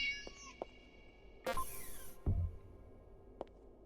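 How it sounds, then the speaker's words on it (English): A cat meows several times in a horror game about dolls, with short mewing calls scattered across the clip, separated by sharp interface and effect sounds. No one speaks. "It said ignore the meowing when I do this."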